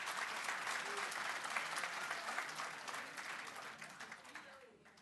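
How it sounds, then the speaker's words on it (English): Sustained clapping from a crowd at an awards ceremony, a dense even wash of applause that holds for several seconds and thins slightly toward the end, with faint voices murmuring beneath. "A big round of applause for the tweet."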